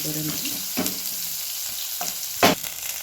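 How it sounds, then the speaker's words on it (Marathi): Onion roasting in oil in a pan gives a constant near sizzle, broken by a few brief stirring scrapes and one louder clatter, with no talking. "कांदा चांगला भाजू बघा लहान"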